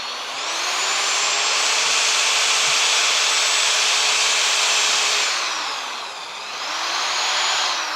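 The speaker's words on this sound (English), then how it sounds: "This is such a weird part to drill these holes out through." A power drill boring holes through a car's rear crossmember, a loud steady whine that sags and recovers as the bit bites into the metal, running continuously without talk.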